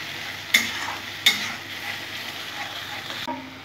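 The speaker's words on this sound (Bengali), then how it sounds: "এখানে গোটা জিরে গোটা ধনে আর শুকনো লঙ্কা আর কাঁচা লঙ্কা আমি খুব সুন্দর করে সব কষে নেব" Whole cumin, coriander seeds, dried red chillies and green chillies fry in oil for a chicken dish, a steady close sizzle punctuated by a few sharp clacks of a stirring spoon against the pan.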